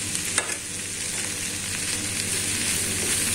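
Corn with vegetables and sauce pan-roasts with a steady, close sizzle and faint stirring scrapes throughout, no talking.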